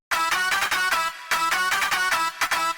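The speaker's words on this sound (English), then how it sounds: "Nice thick layered sound for the trap lead." Thick, layered trap synth lead built in Ableton with chorus, erosion and OTT, playing loud rhythmic stabs in two phrases with a short gap between them and no voice.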